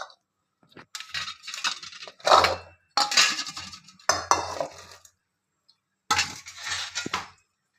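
Chopped colocasia (taro) stem pieces, small onions and green chillies dropped into a cooking pot, several bursts of clattering and clinking metal between short pauses, close and fairly loud.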